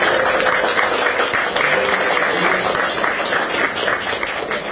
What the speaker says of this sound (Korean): 모든 분들의 큰 박수로 시작하도록 하겠습니다